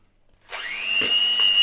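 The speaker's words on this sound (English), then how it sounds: "I'm going to whisk that up." An electric whisk starts up with a steady high whine as it beats Aldi cream cheese for a no-bake cheesecake, the motor droning loudly with a couple of soft knocks against the bowl.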